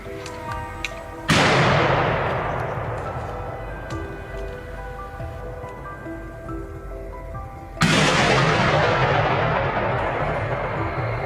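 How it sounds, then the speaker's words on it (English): Two sharp broadband blasts from a hunting gun fired at a charging wild boar, the first near 1.3 seconds and the second near 7.8 seconds, each loud and close, with long reverberant tails fading into the outdoor background. "raising his gun and pulling the trigger"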